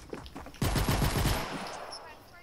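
Rapid automatic gunfire from a gun in a video game, a burst of fast repeated shots that starts abruptly and rings out loud and close for about a second before tailing off.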